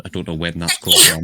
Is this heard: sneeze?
yes